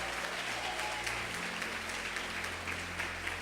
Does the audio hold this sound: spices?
no